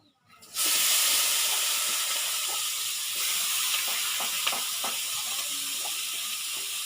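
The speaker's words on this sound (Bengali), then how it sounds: "এই মাংসটাকে আমি চুলা দিয়ে দেবো দিয়ে দিচ্ছি কড়ার ভিতরে" Meat drops into a hot wok on a stove and a loud, sudden sizzle erupts. The dense frying hiss stays steady, with small crackles, close up.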